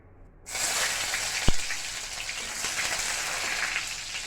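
Onions hitting hot oil in a pan for khichuri, a sudden loud hiss that settles into steady crackling sizzle with a single clunk of the pan partway through.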